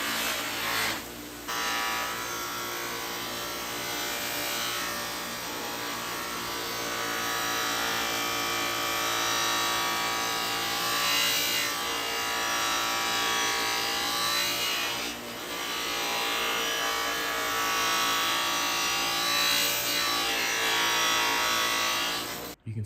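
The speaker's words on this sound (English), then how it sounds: "I'm going to do one more step of polishing" Stainless steel trim from a classic car being polished on a machine, a steady loud whirring, rubbing drone that runs almost unbroken for over twenty seconds, with a couple of short dips, no talking.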